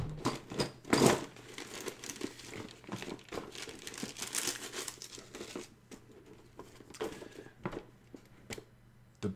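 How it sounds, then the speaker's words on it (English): Plastic model kit parts for Chaos Space Marines, including helmets, are rustled and clattered through a bits box, giving a continuous crinkly rattle with sharper clicks and scrapes at close range. "just like rustling through a bits box."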